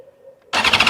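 A faint high tone is followed by a motorcycle engine abruptly cranking and catching, breaking into a loud, rough, pulsing roar.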